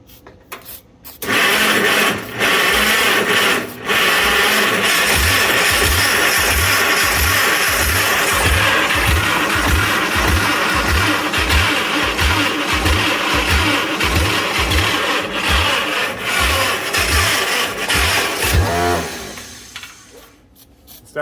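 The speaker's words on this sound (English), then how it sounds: "We're gonna give it a little ether, crank on it." An old Mighty Midget Mobilift forklift engine cranking on ether, a loud, fast, rhythmic churning of the starter that runs steadily for many seconds, then stops.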